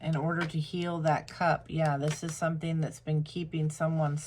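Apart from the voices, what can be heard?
No distinct noise like a dog, phone or traffic.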